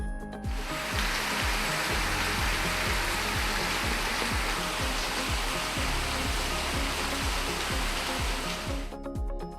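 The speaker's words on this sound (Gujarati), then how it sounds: "અમરેલીના રાજુલાના કોસ્ટલ બેલ્ટ વિસ્તારમાં વરસાદ પડ્યો" Heavy monsoon rain pours down along the coastal belt of Rajula in Amreli, Gujarat, a loud, dense and unbroken roar of rainfall that fills the whole stretch.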